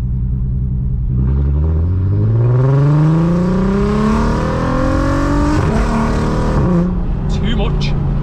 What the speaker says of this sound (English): Nobody needs that exhaust.